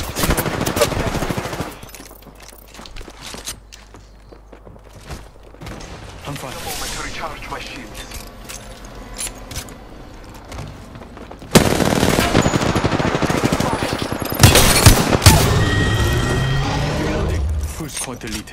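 Apex Legends gunfire with Wingman and R-99 weapons: sporadic shots and mechanical clicks early, then a long loud stretch of rapid automatic fire near the end, with players talking throughout.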